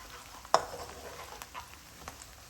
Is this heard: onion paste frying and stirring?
yes